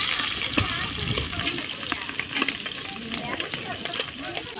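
Cardamom, cinnamon, cloves, bay leaves and onions frying in ghee for a large batch of biryani, giving a steady close crackling sizzle with scattered sharp pops and clicks throughout.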